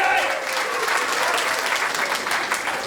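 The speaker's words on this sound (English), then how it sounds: "Someone wants to clap?" A comedy show crowd in Byron Bay breaks into sustained, dense applause, loud and even from start to finish with faint voices mixed in.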